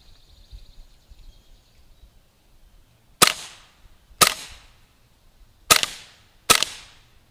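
A Sig Sauer MCX Rattler CO2 BB gun fires four sharp, snappy shots at uneven intervals after a quiet stretch with faint background chatter and birdsong.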